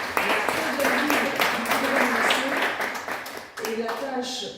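Audience applause at a French municipal council meeting welcoming the new director general of services, moderate clapping heard beneath continuing speech for most of the span.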